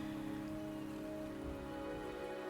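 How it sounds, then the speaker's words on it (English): Steady rain in the Wuthering Waves video game, a dense even patter on surfaces continuing without a break, fairly soft and with no voices. "The rain is subsiding"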